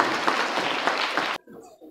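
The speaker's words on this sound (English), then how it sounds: "Give a round of applause to autumn team." An audience at a school science day quiz claps for a team, a dense burst of applause that stops abruptly and leaves a quiet room.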